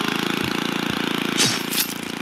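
Lawnmower engine in the video game Happy Wheels, a steady buzzing drone with a regular pulsing rhythm that holds throughout, plus a couple of brief louder swells near the end.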